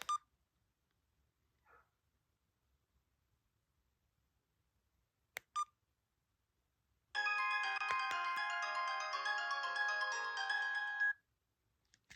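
A basic mobile phone made for elderly users beeps a few times as its button is pressed, then plays a loud melodic power-off tone for about four seconds, close and alone in a quiet room.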